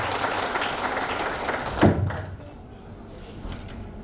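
A hall audience at a Revenue Day celebration in the Ongole Collectorate claps for the DRO and RDO, a dense round of applause that fades after about two seconds into quieter room noise with a voice speaking.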